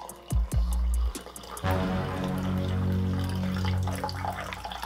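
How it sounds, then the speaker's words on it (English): A blackberry drink being poured starts with a few knocks and clunks. Then a steady, close gurgle of liquid fills the container and rises in pitch as it fills. "Pouring my blackberry drink."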